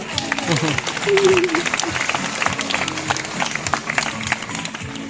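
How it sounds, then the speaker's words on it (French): An audience applauding a sea lion show at Zoo African Safari, steady crowd clapping mixed with a presenter's voice, animal calls and scattered sharp claps across the whole stretch. "Et vous pouvez bien sûr l'applaudir."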